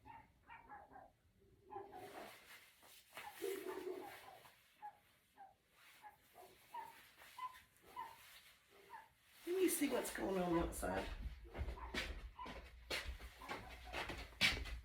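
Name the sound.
dogs barking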